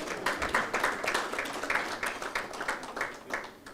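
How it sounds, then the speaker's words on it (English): An audience at a large annual meetings event claps steadily for several seconds, a dense, even patter of many hands filling the room without a break. "Vous pouvez applaudir pour vous-même"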